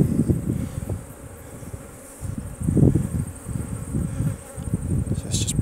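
Honey bees hum and buzz steadily around an open nucleus colony hive outdoors, a dense, close drone that swells and dips as bees fly past.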